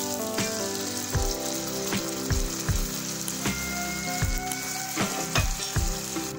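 Paste of ground mustard, white mustard, white sesame and a dried red chilli poured over fish frying in oil for bata macher tel jhal, a steady loud sizzle with repeated knocks of a spoon or spatula against the pan.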